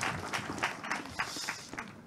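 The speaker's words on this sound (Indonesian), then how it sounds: "Waktu tempat kami berikan tepuk tangan buat Mas Marlo." Faint, distant audience applause for a speaker at a public discussion gathering, a loose patter of claps with irregular louder bursts over steady room noise.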